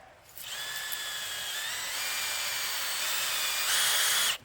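A power drill bores a tap hole into a maple tree, a steady close whine with a constant pitch that rises and gets louder for the last half second before it stops.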